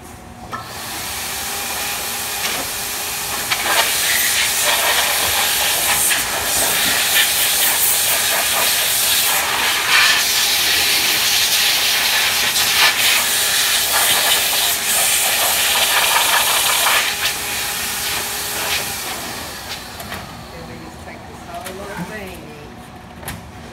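A strong, continuous hiss of compressed air blowing debris out of screw holes blasts for about twenty seconds, with brief sputters, before cutting off and leaving faint background noise.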